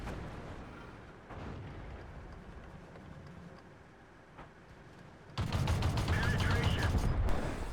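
A tank cannon fires in World of Tanks on the Malinovka map, a sudden loud blast about two-thirds of the way through that cuts off quieter rumbling engine and battle noise and lingers as a heavy roar.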